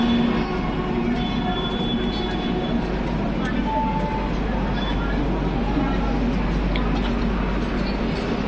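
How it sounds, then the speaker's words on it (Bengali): Duronto Express train bound from Nagpur to Mumbai CST, a steady loud rumble of rail cars and station noise, continuous throughout with faint voices in the background. "এই যে দুরন্ত এক্সপ্রেস নাগপুর থেকে মুম্বাই"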